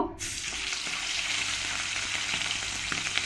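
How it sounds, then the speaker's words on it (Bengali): Chicken pieces frying in well-heated oil, a steady close sizzle and crackle with occasional sharper pops, continuous throughout with no talking. "এবার আমি এক এক করে চিকেনগুলো তেলের মধ্যে দিয়ে দেব"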